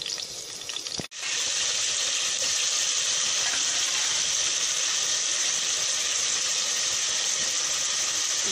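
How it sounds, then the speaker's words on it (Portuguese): Pork ribs fry in a pan with crushed garlic and salt, giving a loud, steady sizzle that begins after a brief pause near the start and continues unbroken to the end. "Isso, vou fritar as costelinhas agora."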